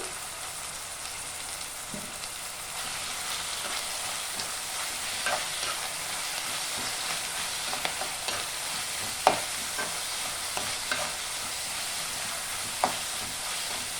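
Moringa (drumstick) leaves fry with onions in a pan for an egg poriyal, producing a close, steady sizzle broken by occasional scraping clicks of stirring, with no talking.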